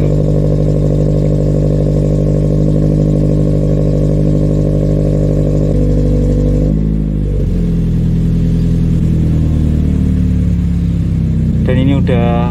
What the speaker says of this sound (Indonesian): Jadi ini karena masih cold start ya, jadinya dia RPM nya agak naik